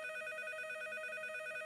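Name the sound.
telephone ringing in cartoon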